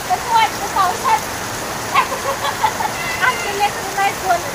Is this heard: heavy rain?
yes